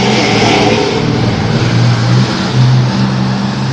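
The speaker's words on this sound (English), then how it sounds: "the traffic's going to be loud" Loud, steady street traffic fills the whole stretch, a continuous wash of car engines and tire roar with passing vehicles swelling slightly, close and dense with no talk.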